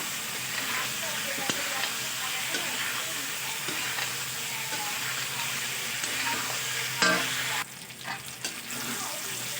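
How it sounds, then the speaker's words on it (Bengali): Potatoes and cauliflower sizzle as they are stir-fried with spices in a pan for a fish curry, with steady crackling frying and scraping stirs throughout and a brief louder clatter near the end. "আলু ফুলকপি খুব ভালো করে একসঙ্গে আমি এটাকে মশলার সঙ্গে একটু কষিয়ে নেব।"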